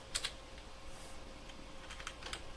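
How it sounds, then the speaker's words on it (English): Typing on a computer keyboard during Linux setup work, with a quick pair of key clicks at the start followed by scattered, lighter keystrokes, close and fairly quiet. "we can type a little note here"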